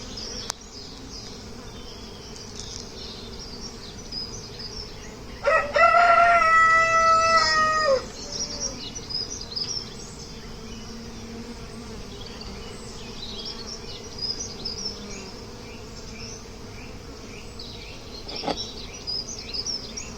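Honey bees buzz steadily around an open hive on a farm apiary in February, a continuous close insect drone with a louder burst of buzzing partway through and a rooster crowing faintly in the background.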